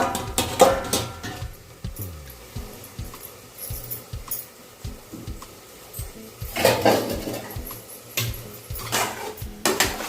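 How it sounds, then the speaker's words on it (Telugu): A lid going onto a pot of capsicum masala curry among clattering kitchen noises, several metallic clanks and clinks of pots and utensils at intervals, close and sharp, with no talking. "మూత పెట్టేస్తున్నాను ఇప్పుడు చూడండి"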